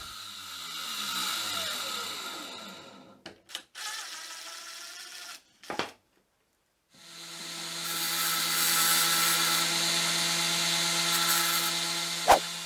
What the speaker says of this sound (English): I'll use my angle grinder with an oversized blade on it, and then use that same oversized unguarded disc to deburr the end of the screw